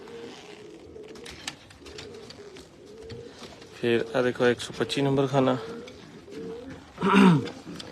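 Pigeons coo softly in a breeder's loft in Faisalabad, with low repeated cooing throughout and a few louder, fuller coos standing out, while someone talks over them.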